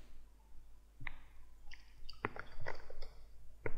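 Faint, sharp computer mouse clicks sound in short, separate taps over a quiet background hum, with about four distinct clicks spread across a few seconds.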